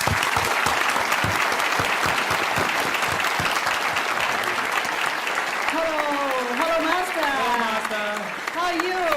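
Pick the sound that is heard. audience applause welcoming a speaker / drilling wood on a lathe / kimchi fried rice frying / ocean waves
audience applause welcoming a speaker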